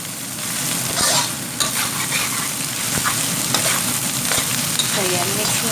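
Fried rice with turkey bacon gets stirred in a pan, a continuous loud sizzle under repeated scraping strokes of a utensil against the metal, with a faint voice briefly in the background.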